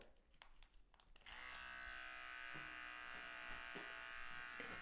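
An electric beard trimmer switches on after a second of quiet handling noise, then runs with a steady, close, high-pitched buzz for the rest of the clip.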